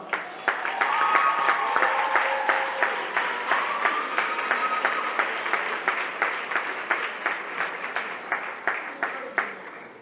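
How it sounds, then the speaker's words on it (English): Audience applause at an event, a continuous patter of many hands with some sharper individual claps standing out, moderately loud and lasting about ten seconds, with faint talk mixed in. "Let's give them an applause."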